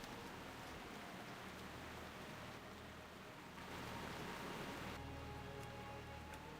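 Steady rain hisses throughout the video game Turtle WoW, a dense, even wash of patter with low game ambience beneath that swells slightly louder midway, with no talk.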